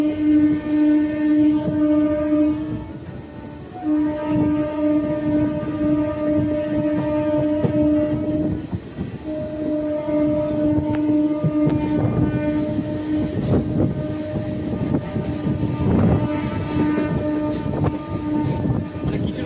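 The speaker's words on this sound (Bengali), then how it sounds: "এটা হচ্ছে বেরুগ্রাম ছাড়লো আমাদের এই ট্রেন" A passenger train runs on after pulling out of Berugram station on the Purulia–Howrah route via Masagram, a loud sustained horn blaring over rumbling wheels and rattling cars, continuous and close throughout.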